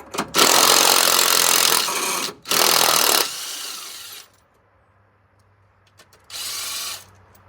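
A ratcheting 13 socket wrench loosening air intake bolts on a truck, loud close-up buzzing bursts of about a second and a half each, separated by short pauses, with a quieter stretch before a final burst.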